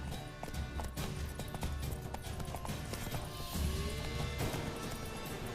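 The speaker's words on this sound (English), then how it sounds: "Run, horsey, run." Hooves of a horse clatter in a fast, steady gallop in The Witcher 3, continuous and fairly close across the whole stretch, with game effects in the background.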